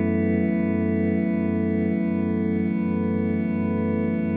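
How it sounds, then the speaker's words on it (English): A sustained, shimmering guitar chord played through a Headrush MX5 rig rings out continuously with heavy, near-infinite reverb and a chorus-like wash, steady and loud throughout with no decay. "normally when I play a chord, it's going to give me a little bit of reverb"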